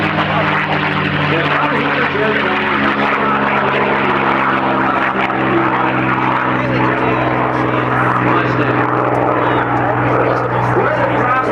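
Unlimited-class modified race airplane taking off at the Reno air races, a loud, sustained propeller-engine roar holding steady throughout, close and powerful, with an announcer's voice faintly mixed underneath.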